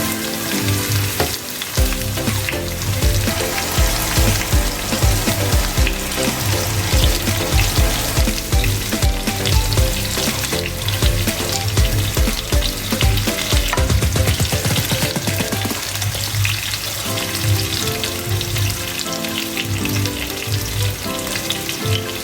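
Toman fish fillet sizzles and spatters in hot cooking oil in a pan, a loud, dense and continuous frying hiss with occasional stirring or scraping sounds and no talk.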